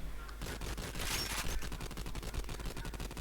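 Rapid bursts of automatic gunfire in a shooter video game, loud and close, with sharp evenly spaced shots running almost continuously.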